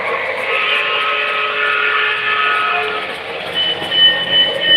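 A model Christmas train runs steadily along its track, giving a continuous mechanical whir and hum with tonal motor whine, fairly loud and close, with no speech over it.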